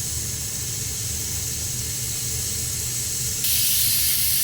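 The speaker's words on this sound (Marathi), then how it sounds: "आता झाकण लावून आपण कुकरची 1 शिटी काढून घेऊया." A pressure cooker cooking brinjal lets off a steady hiss of steam that suddenly swells into a louder, brighter whistle-like rush.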